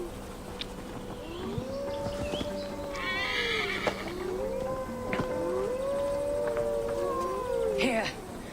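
A horse in the video game Assassin's Creed Valhalla on PS5 neighs and whinnies repeatedly with clip-clopping hooves, loud and near, over a steady outdoor ambience with insect-like hum.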